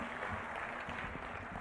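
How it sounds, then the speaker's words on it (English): Sustained applause from an event audience, a dense steady wash of many hands clapping at moderate distance, with no talk over it. "Let's clap for them once again."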